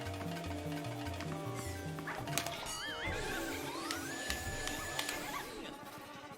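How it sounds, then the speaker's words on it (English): A large horse in the video game Luigi's Mansion whinnies over busy stepping game music, a shrill wavering neigh rising amid clattering effects, with a voice talking faintly underneath. "those horses, they are huge and they go from side to side"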